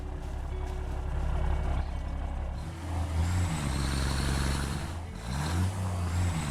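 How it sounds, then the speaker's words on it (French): Truck engine from the video game Satisfactory, a steady low rumbling drone with pitch shifts as it accelerates, plus a rising whine and a beeping tone, continuous and close with no talk. "Allez, on va prendre le camion."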